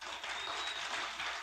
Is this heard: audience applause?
yes